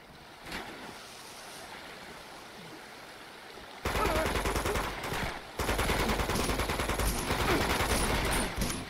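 Automatic gunfire in Uncharted 2: Among Thieves, long dense bursts of rapid shots that cut in loudly and rattle on for several seconds, after a quieter stretch of rushing, surf-like ambience.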